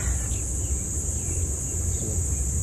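Steady high-pitched insect chirring, likely crickets, holds constant throughout over a low background rumble, with no voices.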